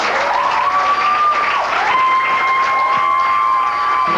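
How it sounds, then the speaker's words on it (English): Loud applause and cheering from an audience fill the space evenly, a dense steady roar with a high sustained whistle-like tone running through it. "A very loud round of applause for Ms."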